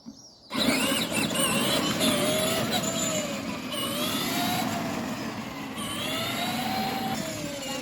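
Battery-powered Pilsan ride-on toy car, wired in series for more speed, reversing with a whining electric motor that starts abruptly and holds a steady, moderately loud drone with pitch shifts.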